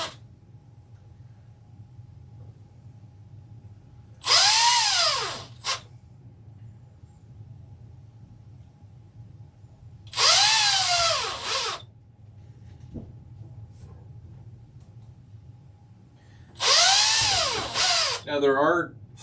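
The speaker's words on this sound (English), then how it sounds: "I'll use my softer drill next time." A power drill runs in three short whirring bursts a few seconds apart while model railroad track is laid for a paper mill scene. A low background hum sits underneath and there is some speech.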